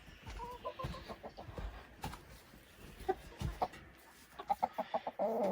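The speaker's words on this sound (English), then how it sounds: "There's the Rooster" Chickens cluck inside a barn built from cattle panels while a rooster moves among the flock: soft, irregular clucks and short calls at low volume, with a faint cluster of sharper calls near the end.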